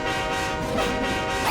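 A cartoon train approaches at night with its horn sounding, a dense rumbling rail roar with a rising horn toot near the end.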